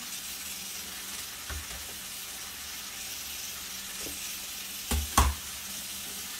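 Green beans tipped into rice frying in a pan with sautéed onion and garlic, a steady soft sizzle with a few brief bumps and a louder clatter of stirring near the end, no talk.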